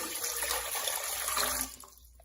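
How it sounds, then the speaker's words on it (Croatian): Water poured into a pot holding sugar makes a close, steady gushing stream for about a second and a half before stopping abruptly. "U lonac ćemo staviti 3 kašike šećera i u to ćemo dodati 500 ml vode"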